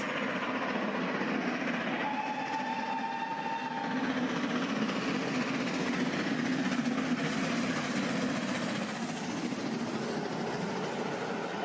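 Great Western Castle class steam locomotive on the move, a steady rumbling roar of the train with continuous rail and wheel noise, fairly loud and unbroken, with a brief whistle-like tone early on.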